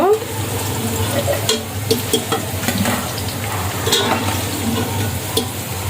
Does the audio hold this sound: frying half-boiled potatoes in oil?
yes